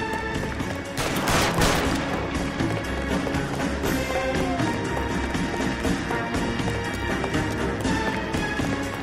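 Gunfire in the crime game L.A. Noire, a dense burst of shots near the start giving way to a busy, continuous mix of game sounds with sharp transients throughout.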